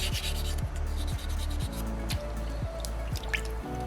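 Sandpaper pushed by thumb over a small soapstone Moai carving, a rhythmic series of close, wet-sounding rubbing strokes, roughly two per second, steady and alone.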